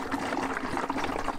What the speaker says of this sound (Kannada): ನೀರು ಹಾಕೊಳ್ಬೇಕು ಇದ್ರೊಳಗೆ